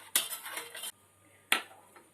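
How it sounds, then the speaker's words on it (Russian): A spoon clinks and scrapes inside a container while stirring sugar into water for a cucumber pickling brine, two short bursts of close metallic stirring separated by a brief pause. "Все хорошенько размешиваем."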